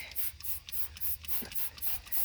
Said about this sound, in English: Just spraying. I'm gonna spray up here as well, right?